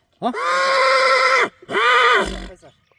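A horse named Kaisar gives two loud, close whinnies in quick succession, each a long shaky call, with a brief low thud at the end of the second.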